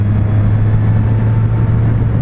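Suzuki Katana motorcycle engine held on a light throttle, a steady close rumbling drone with a strong low hum and a faint whir, even and unbroken throughout.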